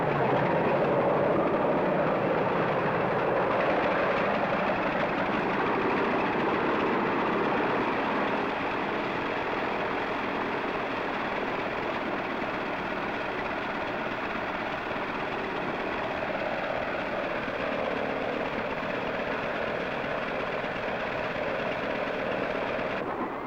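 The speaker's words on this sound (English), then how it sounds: "pilot turns the fuel switch on and starts the engine" McDonnell XV-1 convertiplane from 1956 running its piston engine during warm-up, a steady, loud, continuous engine roar and drone that holds evenly throughout with no talk.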